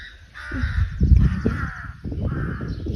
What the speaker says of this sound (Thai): กาเยอะอีกาเยอะค่ะ